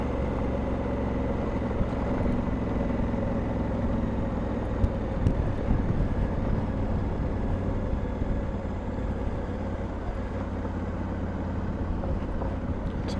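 Honda Africa Twin motorcycle in gravel mode riding a dirt and gravel road, a steady low engine drone with constant tire and wind rumble, close and even throughout with no talk.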